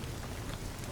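Steady rain falls in a continuous, even hiss with a low rumbling undertone, quiet and distant, with no voices.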